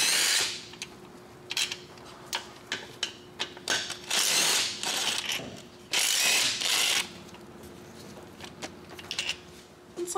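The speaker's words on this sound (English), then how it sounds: "we're going to have to take a 9/16 socket to remove our transmission tail housing here." A ratchet with a 9/16 socket removes a transmission tail housing, giving close, loud bursts of rapid clicking with brief pauses and some metallic clanks between strokes.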